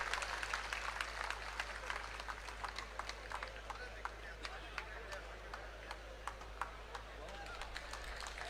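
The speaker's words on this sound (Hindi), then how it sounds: "जोरदार तालियों से माननीय मुख्यमंत्री जी का स्वागत करें" A crowd at a BJP election office inauguration in Hisar, Haryana claps to welcome the chief minister, steady scattered applause with sharp individual claps over a low constant hum, heard at a moderate distance.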